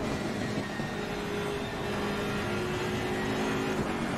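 BMW race car engine in the Assetto Corsa Competizione racing game, a constant loud tonal drone held at high revs with no pause throughout.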